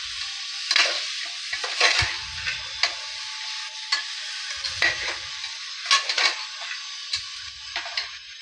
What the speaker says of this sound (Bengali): সবজি মশলা দিয়ে এবার আমি কষিয়ে নেব